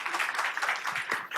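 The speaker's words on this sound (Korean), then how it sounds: "박수 부탁드릴게요." Audience at a startup forum on government funding applauding to welcome a presenter, a brief, moderately quiet burst of clapping from a seated crowd, fairly distant, with a few louder claps near the end.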